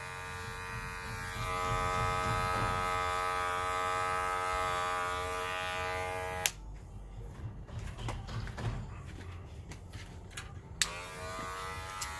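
Electric hair clippers buzz steadily for about six seconds at close range during a men's haircut, then switch off, leaving scattered light handling clicks and rustles before a brief restart at the end.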